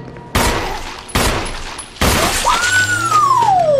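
Gunfire from Chris in the Resident Evil video game: three loud, sharp shots spaced about a second apart, each with a ringing tail, the last followed by a rising-then-falling whine.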